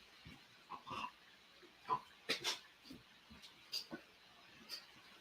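Two small pet dogs whimper and snuffle close by in a quiet indoor room, a scattered run of faint, short whines and breathy sniffs with gaps between them.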